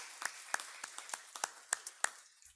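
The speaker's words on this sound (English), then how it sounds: "So everybody give him a round of applause." Scattered hand claps at a school board meeting, greeting a student: about nine sharp, separate claps spread unevenly over a couple of seconds, faint and distant, with no talking.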